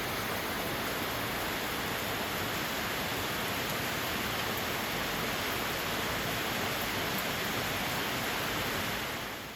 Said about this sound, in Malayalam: അന്നത്തെ ദിവസം നല്ല മഴയുള്ളൊരു ദിവസമായിരുന്നു കേട്ടോ.